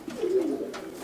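A Madrasi pigeon gives a soft, low, rolling coo lasting about a second, fairly faint and close, with no talking.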